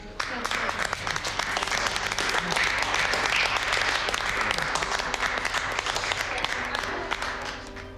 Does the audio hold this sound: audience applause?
yes